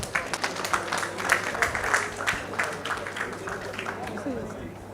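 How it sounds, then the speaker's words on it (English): Audience applause for young Mr. Moses, who has just played at an anniversary banquet and awards evening, heard as moderately loud, uneven clapping from a crowd with murmuring voices mixed in. "Give him a round of applause."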